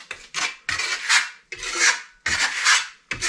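A steel trowel spreads Venetian plaster across a wall in rhythmic scraping strokes, about five rasping swipes in quick succession, close and loud with short gaps between passes.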